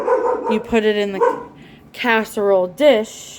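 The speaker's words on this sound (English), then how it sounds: "I apologize for my barking dog." A pet dog in a home kitchen barks several times, loud and close, in short yipping bursts while a person keeps talking over it.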